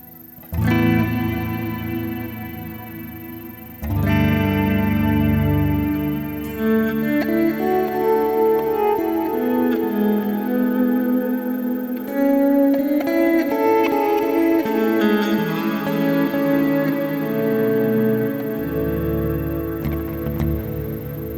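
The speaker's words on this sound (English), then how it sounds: "It's a modulating long reverb. And yes, you can get very long tails with this." Sustained guitar chords bloom into a long, shimmering, wavering reverb, notes smearing together with lingering tails that wash on for many seconds.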